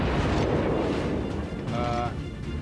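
Cruiser main guns fire shells in World of Warships, heavy rumbling booms layered over a constant roar of battle noise, with a brief tonal beep partway through.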